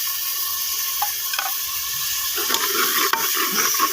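Tomatoes go into a hot pan of browning onions for an Indian mixed vegetable curry, hissing and sizzling steadily, with a few clinks and scrapes as the mixture is stirred.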